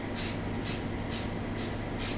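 Aerosol spray paint hisses from a can over a masking stencil in five short, loud bursts at an even rhythm, with no talk.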